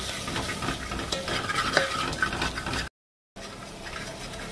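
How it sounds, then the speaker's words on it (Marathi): Spice masala of red chili powder and salt frying in hot oil while being stirred, a steady close sizzle with scraping spoon strokes, then a brief silent gap before the sizzling resumes. "आता हे मस्त आपण तेलामध्ये सगळं फ्राय करून घेऊया मसाला।"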